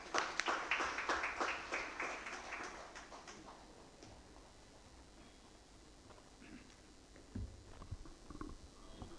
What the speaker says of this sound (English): Please join me in welcoming him with a big round of applause.